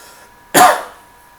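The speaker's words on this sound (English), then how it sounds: "Oh wow, that was another cough there." A single sharp cough bursts out close by against a quiet, hushed background, fading quickly.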